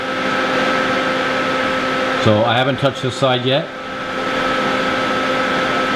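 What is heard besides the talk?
TIG welder welding aluminum onto a motorcycle clutch lever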